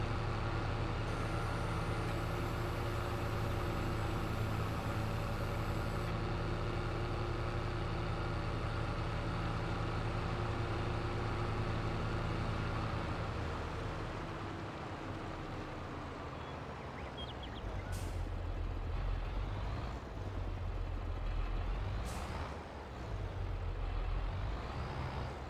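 A tractor in the Farming Simulator game, one in need of serious repair, drones loudly and steadily for about fifteen seconds. The engine note then drops and shifts, with short revving swells near the end. No one speaks.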